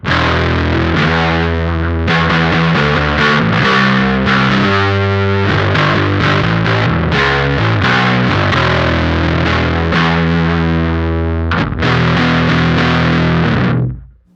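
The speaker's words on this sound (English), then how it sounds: "Let's go ahead and hear how the Lineman sounds on bass" A bass guitar played through an O.C.E. Lineman distortion pedal, knobs around noon, gives a loud, thick, gritty tone of sustained notes and short riffs, shifting pitch steadily before the final note cuts off abruptly.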